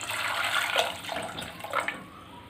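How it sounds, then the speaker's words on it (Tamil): Water splashes and gushes steadily into a pot, a continuous pouring rush with a few louder surges, close by and with no talking. "முங்குற அளவுக்கு தண்ணி ஊற்றிக்கலாம்."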